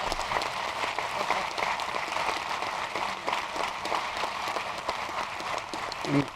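An audience at an upstate New York economic development event applauds, a steady, moderately loud crackle of many hands clapping that continues evenly for several seconds.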